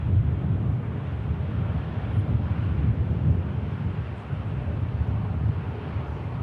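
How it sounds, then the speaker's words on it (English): A breeze blows across an airport, making a low, rumbling wind buffet on the microphone that is steady and fairly loud, with no voices. "Breeze just picking up ever so slightly as well."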